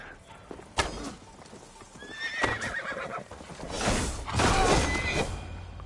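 In Assassin's Creed Valhalla's Siege of Paris, a horse whinnies loudly and shrill, then hooves clatter and thud heavily up close, with game-style sound effects.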